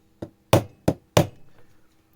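Four sharp taps of a small hammer on a drill motor part resting on a metal base, from the Dnipro cordless screwdriver under brush replacement, irregularly spaced, close and crisp, with a brief faint rattle after the last.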